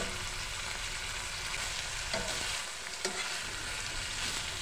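Jatka, young hilsa fish, frying in a pan, a steady close sizzle with occasional stirring scrapes and small pops.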